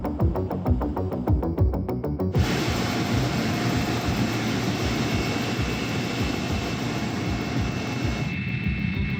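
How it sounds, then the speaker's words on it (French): Loud, continuous whine and roar of helicopters waiting to lift off for a GIGN arrest operation, rising abruptly to a dense broadband roar that stays steady, close and alone without speech. "À quelques minutes, 2 hélicoptères attendent Arnaud et sa colonne, direction le 2e pavill"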